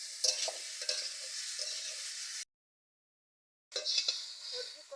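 Sliced ridge gourd and ginger paste crackle in oil in a pan, a close bright sizzle with stirring scrapes that cuts out into a sudden silence before the frying resumes.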